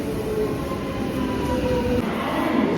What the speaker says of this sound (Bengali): তো এখানে এখন ট্রেন এসে গেছে